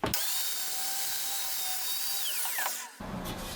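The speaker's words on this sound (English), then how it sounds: "I'm using a scoring cut, so I won't cut very deeply." A track saw makes a shallow scoring cut along a guide rail, a loud, steady high-pitched whine of blade and motor held for nearly three seconds, then cut off abruptly and winding down, close by.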